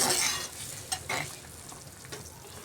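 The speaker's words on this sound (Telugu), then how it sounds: "ఇదిగోండి ఇలా మరగాలి ఎసురు" Water for coarse rice boiling in a cooking pot, a steady bubbling hiss with a few soft bumps and clinks, close and alone.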